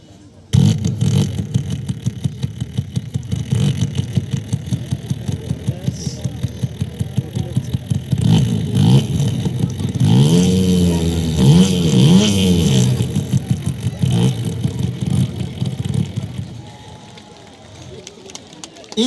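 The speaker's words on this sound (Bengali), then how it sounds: "আমি স্টার্ট দিয়ে একটু সাউন্ড ইঞ্জিনটা চেক করব" A CDI 800 motorcycle engine starts and runs steadily with a loud, rough, continuous rumble that surges as it revs, and voices speak over it.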